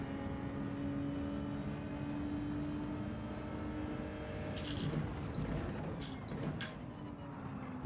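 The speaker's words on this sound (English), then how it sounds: "look at that dive bomber" A dive bomber sweeps past in Gran Turismo 7, a propeller-plane roar that swells near the middle and fades, layered over a steady engine drone with no talk.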